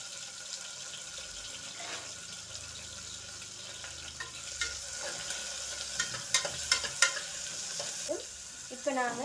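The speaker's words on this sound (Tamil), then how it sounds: "கருவேப்பிலை, பச்சை மிளகாய் எல்லாத்தையும் சேர்த்து நல்லா கொஞ்சம் வதக்கிடுங்க." Curry leaves and green chilies sautéing in a pan for a beef curry, a steady bright sizzle with scattered crackles and spatula scrapes growing busier toward the end.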